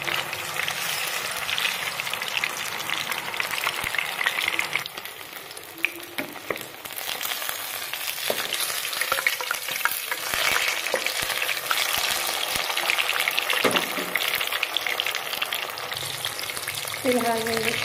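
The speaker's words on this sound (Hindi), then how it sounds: "अच्छे से फ्राई हो गई है।" Fish pieces frying in a pan, a dense, steady sizzle close by with occasional stirring clinks and scrapes, continuous throughout.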